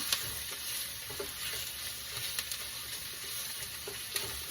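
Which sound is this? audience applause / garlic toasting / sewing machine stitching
garlic toasting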